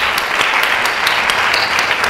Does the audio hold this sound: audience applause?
yes